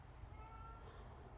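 A house cat meows, a single faint, drawn-out cry over a low background hum, with no talking.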